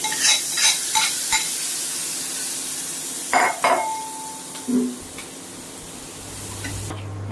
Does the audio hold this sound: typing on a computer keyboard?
no